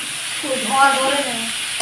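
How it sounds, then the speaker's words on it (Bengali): Neem leaves frying in a wok, a brief soft sizzle and stir in a home kitchen lasting under two seconds, without talk. "নিম পাতা ভাজা হবে"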